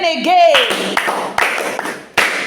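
During an Epie language lesson, a voice speaks, then a few scattered, distinct hand claps from a small class follow at irregular intervals, close by.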